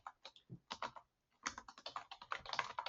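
Quick bursts of keystrokes on a computer keyboard, a short flurry, a pause of about half a second, then a denser run of rapid clicks, close and fairly quiet.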